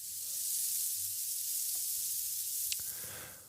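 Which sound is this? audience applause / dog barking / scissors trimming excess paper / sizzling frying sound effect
sizzling frying sound effect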